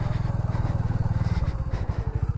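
A Hero Mavrick 440 motorcycle ridden off-road gives a loud, close, throbbing engine note with rapid regular firing pulses that dip briefly mid-way before picking up again.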